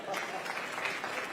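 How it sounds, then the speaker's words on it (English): Brief burst of audience applause at a university presidents' town hall, a dense patter of clapping that stays steady for just over a second, with voices mixed faintly into the crowd noise. "So I think that deserves a round of applause."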